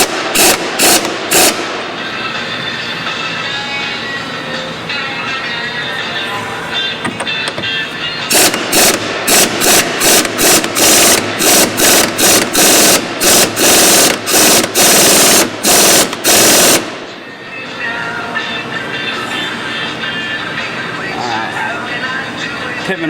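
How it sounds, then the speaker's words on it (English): A powerful 1/2-inch impact driver, throttled to half power, hammers a pitman arm onto the splines of an aluminum steering box; several loud rapid bursts of rattling impacts sound close up over a steady background hum. "I'm using a 1/2" impact driver. This is a very powerful tool."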